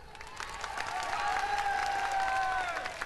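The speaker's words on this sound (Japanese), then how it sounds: "改めて拍手" A crowd at a Guilty Gear XX Accent Core tournament, Tougeki 2010, breaks into sustained applause with some cheering, while a bright electronic tone from the game rings over it.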